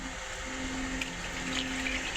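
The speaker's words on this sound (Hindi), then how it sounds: "तो अभी इसके अंदर से जो पानी है वो निकालेंगे" Water draining out of a pot of chickpeas soaked overnight with baking soda, a steady close rushing pour that runs without a break and with no talk over it.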